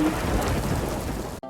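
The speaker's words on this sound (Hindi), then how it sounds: "टिप टिप करती बारिश की बूंदे" Rain pours steadily with a dense, even hiss that fills the whole stretch, while low rumbling underneath suggests thunder; the sound cuts out abruptly just before the end.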